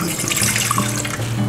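Tap water runs into a pot being filled for boiling noodle water, a steady loud splashing hiss heard close up and alone, without talk.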